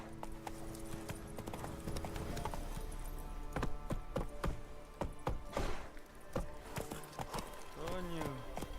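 Rhythmic clip-clop of a horse galloping in the video game The Witcher 3, steady hoofbeats with game sounds and a voice talking over them.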